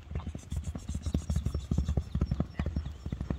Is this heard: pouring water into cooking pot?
no